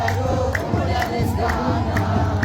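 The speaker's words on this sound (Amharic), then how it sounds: "እልል በሉ" A church congregation ululates and shouts in praise during a service. The crowd noise is loud and dense, with high trilling cries rising at regular intervals over the roar of voices.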